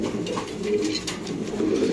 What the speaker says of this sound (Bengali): আফসান গ্রিজেল বিউটি কবুতর সাথে একটা ডিম